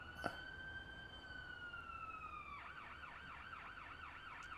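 An ambulance siren in a video game wails in a long, falling tone, then switches to a rapid warbling yelp. It sounds clear and continuous over faint background noise.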